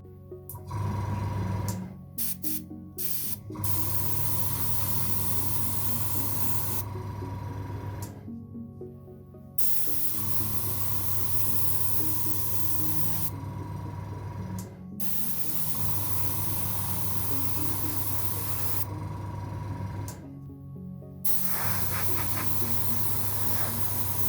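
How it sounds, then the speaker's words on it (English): Airbrush spraying Vallejo Model Air Fire Red base coat onto a Star Destroyer scale model, a steady close hiss in several long bursts separated by brief pauses, over a constant low compressor hum. "So I'm just going to go ahead and give that a base coat of that colour,"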